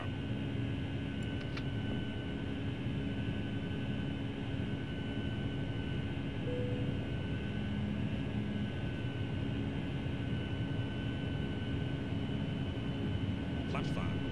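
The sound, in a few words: Boeing 757 jet engines at takeoff power, Flight Simulator X game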